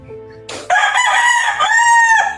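A rooster crows once, loud and close, a single drawn-out call lasting about two seconds.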